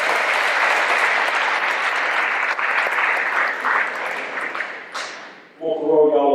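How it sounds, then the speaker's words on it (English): A room full of people at a high school football banquet claps steadily in dense applause that fades out toward the end, followed by a brief ringing ping. "Please give them a round of applause."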